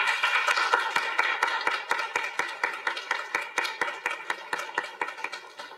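A room full of city and county employees at a civic event gives a burst of hand clapping, dense at first and thinning into scattered individual claps, steady and fairly close with no talking over it.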